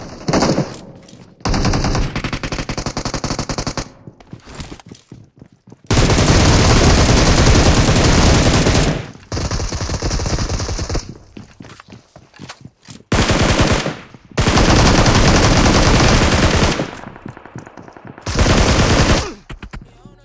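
Machine gun fire rattles through a BGMI gunfight in long, loud sustained bursts, broken by short pauses and occasional single shots.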